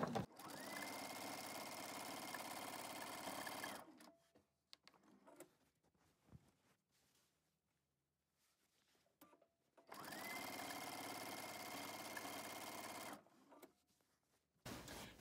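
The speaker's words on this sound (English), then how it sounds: "And then you just start sewing" A sewing machine stitching quilt binding runs in two steady bursts of about four seconds each, separated by a quiet pause with faint handling noises, close and alone.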